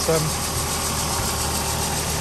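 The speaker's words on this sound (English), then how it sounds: "Cosworth engine is doing what it should. They do sound a bit" A 1986 Ford Sierra RS Cosworth engine idles with a steady, rough, rattling drone, heard close and continuous for a couple of seconds.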